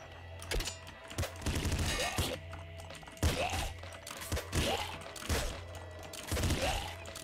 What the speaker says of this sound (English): Quadruple machine gun.